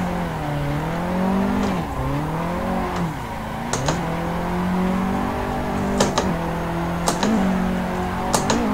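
A Nissan 180SX drifts in the racing sim Assetto Corsa, its engine tone repeatedly swooping up and down in rev surges, with sharp clicks and clutch-kick bursts scattered over the steady synthetic drone.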